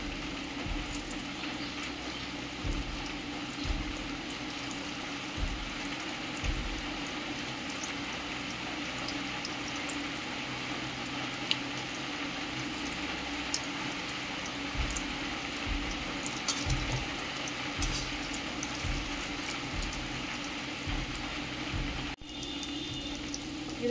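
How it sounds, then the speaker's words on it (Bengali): Mung dal puli pitha fry in hot oil with a dense, steady sizzle and bubbling that runs continuously, punctuated by occasional soft taps and clinks, no talking. "এবারে মুগের ডালের পুলিগুলোকে আমি ভেজে নিব।"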